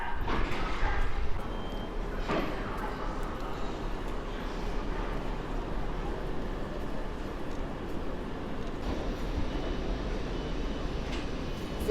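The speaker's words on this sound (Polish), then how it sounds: "Dojeżdża pociąg szybkiej kolei miejskiej, linia S2." An S2 fast urban rail train pulls into Warszawa Zachodnia station amid construction work, a steady low rumble of rolling wagons with faint squeals and clanks at moderate distance, while a dog barks briefly in the background.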